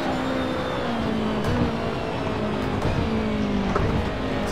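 Race car engine in the Assetto Corsa racing game, a steady loud drone with pitch dropping and climbing as gears shift, a few faint tire noises on top.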